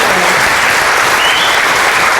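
A dense, loud wash of steady applause fills the room as an awards audience at the CanAm Sled Dog Race claps for the rookie mushers who finished the 250-mile race, sustained without pause.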